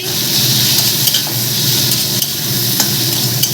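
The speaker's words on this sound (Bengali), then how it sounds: "এবার আলু বেগুনটা একটু ভেজে নিই" Potato and eggplant pieces frying in a wok with nigella seeds, giving a loud, steady close sizzle with occasional stirring scrapes throughout.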